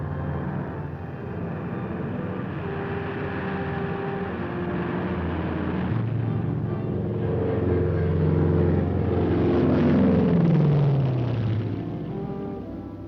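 C-54 transports and C-119 Flying Boxcar aircraft in flight carrying paratroopers to Korea, a steady droning propeller-engine hum that swells louder midway, with a passing tonal sweep near the end.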